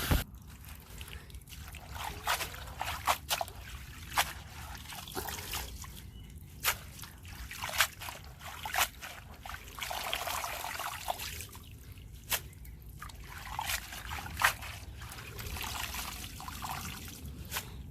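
Fresh garden vegetables are rinsed under running water, with a steady trickle and splashing broken by sharp clatters and handling sounds as they are washed.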